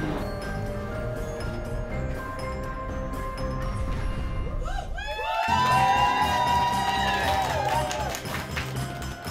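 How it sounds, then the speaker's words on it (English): Fans scream and cheer in a sudden burst of high, overlapping shrieks and yells as a TV actress surprises them, rising out of a murmuring crowd background and sustaining for several seconds. "we can hear them screaming and crying a little bit"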